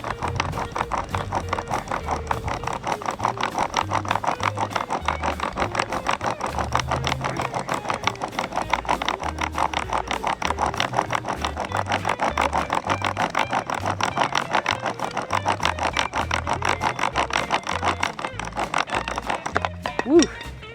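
A wooden bow drill spindle being worked hard against a fireboard with heavy downward pressure, giving a fast, continuous rasping friction sound in a rapid back-and-forth rhythm, close and steady.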